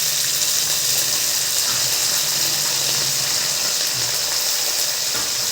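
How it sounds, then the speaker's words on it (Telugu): Spices and fenugreek frying in hot oil for fenugreek-leaf pulihora, a steady, loud, continuous sizzle with no pauses. "ఇవి చక్కగా నూనెలో ఫ్రై కావాలి"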